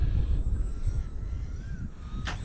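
A Bayer Model 32-inch Vertigo model airplane's engine drones steadily on a windy day, a thin high whine held throughout over heavy wind rumble, with a brief bright burst near the end.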